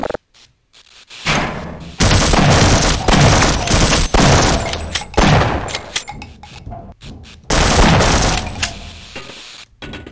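Shotgun blasts in the video game Half-Life Opposing Force ring out in a loud, rapid series of booming shots with brief pauses between bursts, amid clattering game effects.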